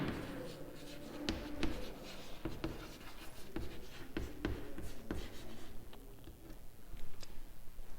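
Pen or chalk writing by hand, steady scratchy strokes with sharp taps at intervals, close and fairly quiet over a faint room hum, during a physics lesson on wave functions.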